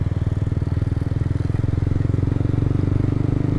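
A Honda CBR motorcycle engine with a 12,000 rpm limiter runs close by, a loud, fast, even pulsing drone that holds a steady note and does not clearly climb, with no talk over it.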